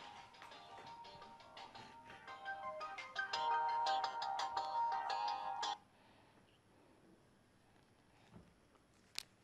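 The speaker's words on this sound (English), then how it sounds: "My phone." A mobile phone ringtone plays as a rapid, tinkling melody for several seconds, then stops abruptly, leaving quiet room sound with a few soft taps.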